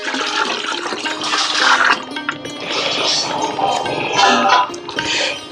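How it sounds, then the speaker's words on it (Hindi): Cow urine, 5 to 10 litres, poured into a mixture of cow dung and water for jeevamrut, giving a steady, loud, splashing gush of liquid that continues without pause. "फिर बाद में हम उसमें गोमूत्र डालते हैं 5 लीटर से 10 लीटर तक।"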